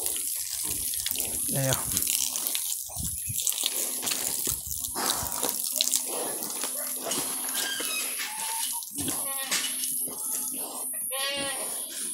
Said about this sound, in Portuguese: Dobra a mangueira ali, dá banho nas porcas.